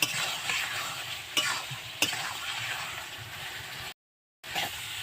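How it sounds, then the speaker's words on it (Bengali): New potatoes with salt sauté and sizzle steadily in a pan, with a few sharp scrapes of stirring and a brief silent gap near the end before the frying resumes. "আমি নুন দিয়ে দিলাম পরিমাণ মতো ভালো করে কষিয়ে নেব"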